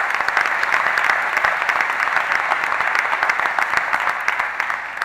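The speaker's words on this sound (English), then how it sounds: "Can we give them another round of applause?" Steady applause from a crowd at a State of the City address, sustained clapping at moderate volume throughout without any talking.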